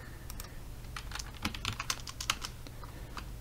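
Dice rolled for the tabletop board game Dungeons & Devotions, a quick flurry of light clicking and clattering taps, faint and close, over a low background hum.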